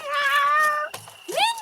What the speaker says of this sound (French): Oh, le petit chat de Caroline!